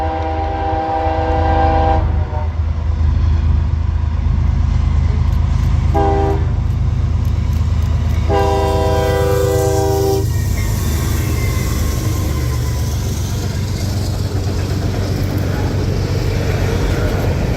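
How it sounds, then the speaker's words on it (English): CSX M204, an eastbound freight train with an Amtrak GP38 trailing third, rumbles past steadily while its horn sounds in several loud blasts: a long one, a short one, then a longer one, over the continuous low drone of the moving train. "we heard a horn in the distance and checked on CSX and found CSX M204 heading east with an unexpected Amtrak GP38 trailing third."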